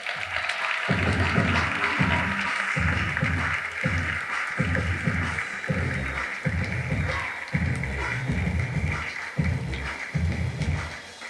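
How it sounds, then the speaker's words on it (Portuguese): An audience at a fashion trends summit lecture applauds a speaker taking the stage, a dense, sustained wash of clapping that holds steady for several seconds, with no voices over it. "recebam, como ela merece, com uma salva de palmas, Blanca Aliani."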